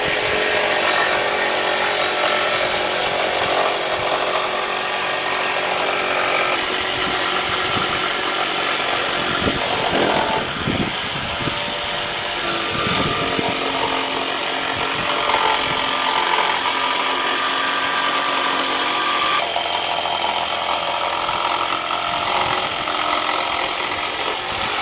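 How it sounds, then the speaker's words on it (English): Saber saw cutting through wood while shaping a rocker concave former: a steady, loud buzzing reciprocating cut that runs continuously, with slight shifts in pitch and load as the blade works along the line. "I'm going to take the saber saw, we're going to cut it off, leaving the line"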